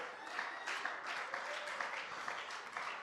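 A church congregation claps and cheers during a sermon in a steady burst of applause lasting a few seconds, fairly close and dense, with no talk over it.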